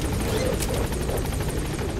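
In Metal Gear Solid 5, a video game, a helicopter's rotors beat in a continuous rhythmic chop, loud and close, with no one speaking.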